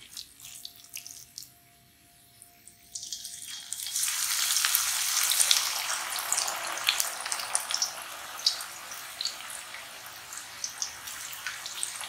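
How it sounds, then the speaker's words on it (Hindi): Pakoras frying in hot oil in a wok: after a quiet start, a loud hissing sizzle swells up and keeps crackling steadily with small pops throughout. "अब इसमें जो है हम पहले सादे पकौड़े फ्राई करेंगे फिर दूसरे चिकन वाले।"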